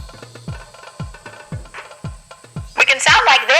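A voice run through a megaphone effect, sounding tinny and boxy, speaking in short bursts alongside rhythmic low thumps, ending in a louder, brighter stretch of processed speech.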